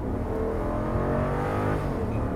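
The 6.4-liter V8 of a 2022 Jeep Grand Wagoneer is floored, heard from outside as a loud, close, steady exhaust roar through twin tips, sustained throughout.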